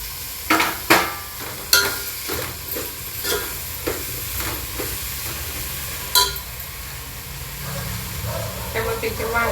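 Carrot, spinach, tomato, cauliflower, brinjal and potato pieces hiss and sizzle in a hot pot for pulao, with a steady frying crackle under sharp clinks and scrapes of a spoon stirring against the metal.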